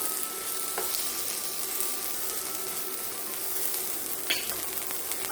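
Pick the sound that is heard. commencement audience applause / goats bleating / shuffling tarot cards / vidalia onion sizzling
vidalia onion sizzling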